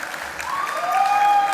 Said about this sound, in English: Round of applause for Liv.